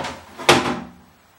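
Hotel room drawer pulled open with one short wooden clunk and slide, close and brief, fading quickly into quiet.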